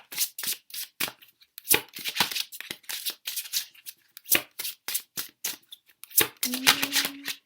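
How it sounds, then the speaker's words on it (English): A large deck of tarot cards is shuffled over and over at close range, quick crisp riffles and slaps coming in uneven bursts. "I just keep shuffling."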